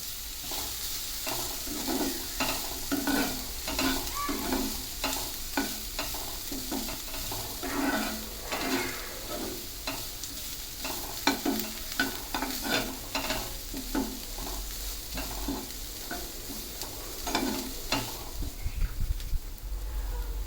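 Curry leaves fry and get stirred in a pan of hot oil, with steady sizzling crackle and repeated scraping strokes of a spoon throughout, close and alone with no talk.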